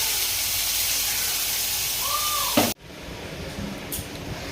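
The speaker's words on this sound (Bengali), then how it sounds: "তো চিংড়ি মাছটা ভেজে নিই" Prawns frying in a home kitchen pan give a steady broadband hiss that runs loud and constant, then cuts off sharply and resumes quieter, with a faint rising tone near the break.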